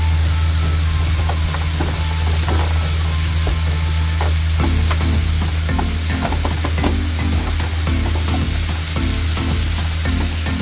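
Onions caramelizing for skirt steak sliders sizzle steadily in a hot pan, with a low constant hum underneath and repeated scraping stir clicks across the middle; no talking.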